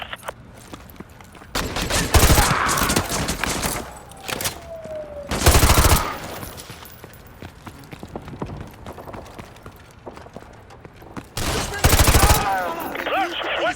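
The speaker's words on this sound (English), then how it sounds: "Roach, we're taking heavy fire from the militia here" Modern Warfare 2 campaign firefight against militia, with loud bursts of gunfire in three distinct clusters and scattered shots and clatter in between.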